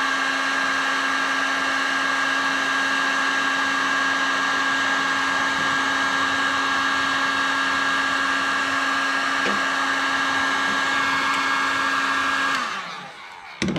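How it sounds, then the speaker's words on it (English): A heat gun blows hot air onto heat shrink tubing over wiring on a Land Rover Series 2A, a steady close whine with a constant hum that runs unbroken for about thirteen seconds, then cuts off as the gun is switched off. "So I'll quickly heat shrink this on."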